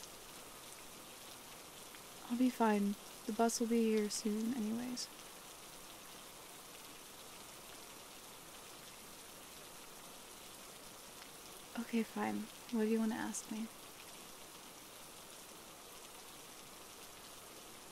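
Steady rain falls at a bus stop, a constant soft hiss throughout, while a voice speaks in two short bursts over it.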